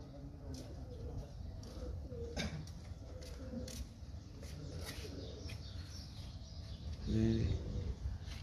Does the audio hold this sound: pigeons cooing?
yes